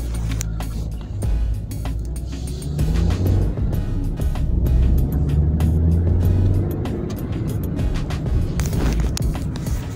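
Steady engine drone and road rumble from inside a moving car, close and constant, with small rattles and knocks over the low hum.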